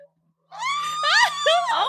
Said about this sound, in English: but I screamed right into our phone mic.